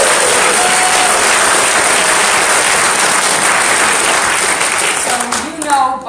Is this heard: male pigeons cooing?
no